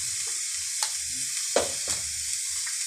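Noodle spring roll filling with black pepper and noodle masala sizzles in a pan under a constant hiss, broken by a few scraping strokes of a spoon as it is stirred.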